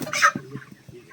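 A heavy, strong-legged rooster clucks in a few low, short notes after a brief louder squawk, heard close and alone.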